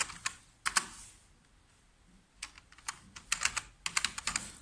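Keystrokes on a computer keyboard while a code comment is typed, coming in scattered bursts of quick clicks with a short pause in the middle, close and clear with no talking.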